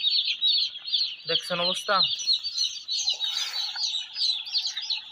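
Tiny, poor-grade broiler chicks chirp continuously in a dense high-pitched chorus, with someone speaking briefly over them partway through.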